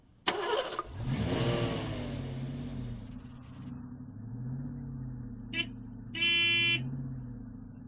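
A scooter stage prop from a theatre play starts up with a sharp click and an engine-like rev that settles into a steady idle, followed by two short electronic beeps, close and clear.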